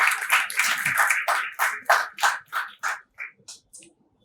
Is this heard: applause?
yes